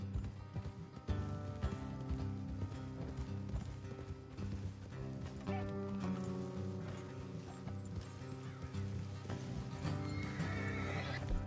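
Horses in the Red Dead Redemption 2 game trot with a steady clip-clop of hooves, and whinnies and neighs rise over a continuous backdrop.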